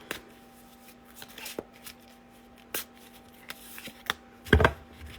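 Tarot cards shuffled before a card is drawn: soft scattered riffles and taps, quiet and close, ending in a louder flurry of shuffling.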